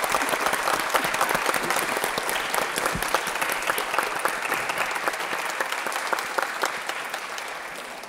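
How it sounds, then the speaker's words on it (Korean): An audience applauds to welcome Damyang county governor Choi Hyung-sik at a regional forum, a dense, steady wave of crowd clapping that holds for eight seconds before easing slightly. "최형식 담양군수님 박수로 맞아주시기 바랍니다."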